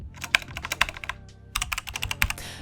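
Bursts of quick key clicks on a computer keyboard as text is typed, loud and close, with a short pause midway before another rapid run of keystrokes.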